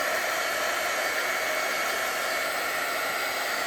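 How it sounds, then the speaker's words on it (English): An embossing heat gun blows steadily and loudly up close over a wet salted craft background, a constant, even whooshing hiss of hot air with no voices. "you can go back and forth with your embossing gun"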